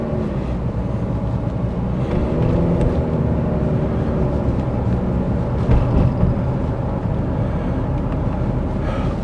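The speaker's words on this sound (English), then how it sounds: "I don't want to do it on a day like this because the traffic would be so noisy." Steady road traffic rumbles through Paphos town centre in Cyprus, a continuous low drone of passing vehicles and engines, moderately loud, with no talk.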